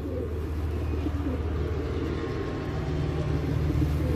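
Pigeons cooing and shuffling inside a pigeon tower, a steady low murmur of birds close by with a faint rumble underneath, continuous throughout with no talking.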